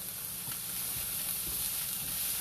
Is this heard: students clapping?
no